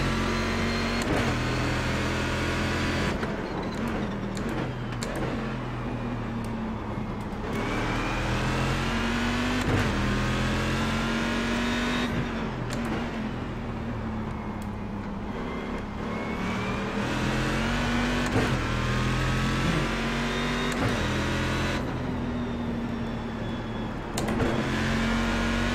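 Corvette race car from an iRacing Corvette Challenge at Watkins Glen, its engine droning steadily and loud throughout, pitch rising and falling through repeated revs and gear changes, with no talk over it.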